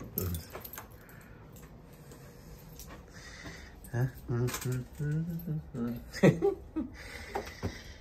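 Keys jangle in short metallic bursts as a new home is unlocked after renovation, with people talking and laughing nearby over a quiet room.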